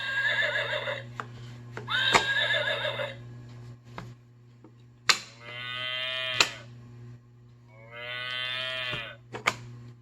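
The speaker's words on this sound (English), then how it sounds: "Horse." Horse neighs and whinnies in two long, loud calls, each with a sharp snort, separated by cattle mooing, all over a steady background hum on a farm.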